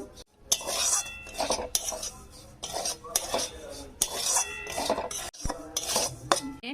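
Semolina frying in ghee in a pan over low heat while being stirred, with repeated scraping and clinking of a metal spoon against the pan in irregular bursts, close and moderately loud, with no voices.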